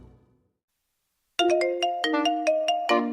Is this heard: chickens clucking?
no